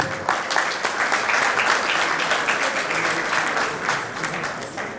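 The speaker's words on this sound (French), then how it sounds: "Sous vos applaudissements encore une fois, s'il vous plaît." An audience at a Moroccan logistics awards ceremony in Casablanca claps continuously, a dense, even roar of many hands at fairly loud level without a break.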